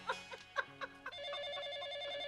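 After a few soft thumps, a phone begins ringing with a steady electronic warble, faint and continuous.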